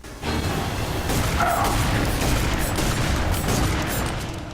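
A loud, sustained roar of explosions and rumbling blasts in the video game F.E.A.R. 3, dense and continuous for several seconds without a break.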